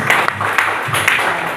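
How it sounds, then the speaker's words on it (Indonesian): Loud, steady applause fills the room at a fundraising gathering in a cafe, with many hands clapping continuously and close by throughout. "Tepuk tangan buat Sleman."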